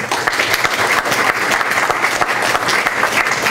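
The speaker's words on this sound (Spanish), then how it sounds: "Un aplauso para Jaime Huerta" A forum audience at an international disability conference applauds a speaker, loud, dense clapping that continues evenly for the whole stretch.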